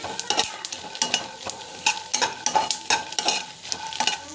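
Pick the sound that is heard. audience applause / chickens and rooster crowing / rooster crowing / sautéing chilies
sautéing chilies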